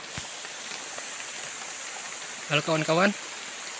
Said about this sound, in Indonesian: Saat ini sudah turun hujan ya.